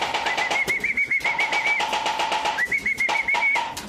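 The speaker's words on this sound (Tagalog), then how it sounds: "Dito na ibon namin, sabay-sabay silang tatlo." Pigeons cooing and calling at a racing pigeon loft as racing pigeons arrive, repeated warbling coos in two bursts up close, with fluttering and scattered bumps around them.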